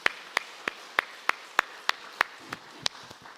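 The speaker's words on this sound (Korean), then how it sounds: "그 놀라운 하나님께 우리 감사와 큰 영광의 박수 올리겠습니다." Worshippers in a church clap in an even, steady rhythm, about three sharp claps a second, fairly quiet and with nothing else over them.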